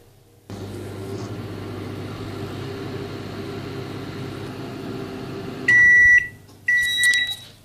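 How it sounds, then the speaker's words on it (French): A microwave oven running, with a steady low hum that starts after a brief silence and continues for several seconds, then ends in loud, close electronic beeps in two bursts. "Alors là j'ai le micro-ondes qui vient de sonner"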